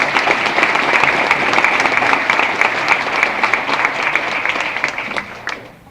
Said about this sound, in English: Would you give some applause to Miss Eileen Cole, who will stand now if she is here?